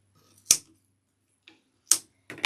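Snipping grapevine wreath material, with a few sharp, isolated cuts or clips in an otherwise quiet room, close and distinct, the last ones coming in quick succession.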